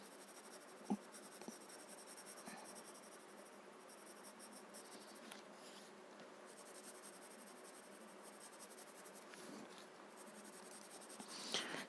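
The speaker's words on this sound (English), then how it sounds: "what I'm going to do is add some thick graphite at the ends." A pencil lays thick graphite shading on paper for a Zentangle floral tile, making a faint, close, steady scratching and rubbing with occasional light taps, and no voices.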